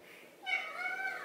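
A house cat meows once, a drawn-out, wavering cry rising in the second half after a quiet start, fairly close and alone with no talk.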